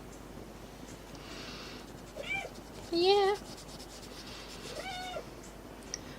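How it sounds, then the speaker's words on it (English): A house cat gives a few distinct, strong meows, the loudest one in the middle, over a quiet room with a soft voice speaking briefly. "it's a real cat. She does have like almost a fake sound of meow. Like, it's such a strong meow."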